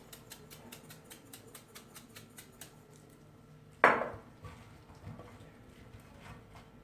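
Diced potatoes tumble into a pan of cut onions with one sharp clattering thud, after a run of light rhythmic metallic ticks and a softer knock later.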